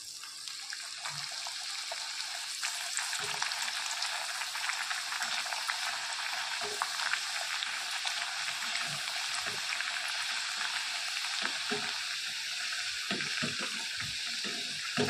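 Jaggery puri frying in hot oil, a steady close sizzle and bubble with scattered soft clicks and taps, continuous and quiet with no talk.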